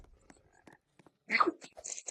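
A frog croaks in the video game 99 Nights in the Forest, a short burst of a few rough croaks after near silence, fairly quiet and alone.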